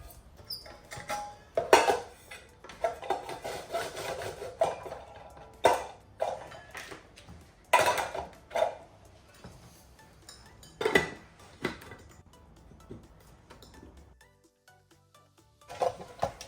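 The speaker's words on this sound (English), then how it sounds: "Now I'm just going to see how well the accessories fit into the rice cooker." Plastic accessories for a medium Russell Hobbs rice cooker clink and knock against the pot as they are fitted in, with scattered sharp clatters and short pauses between them.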